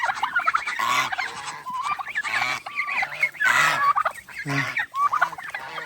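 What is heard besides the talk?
turkeys and geese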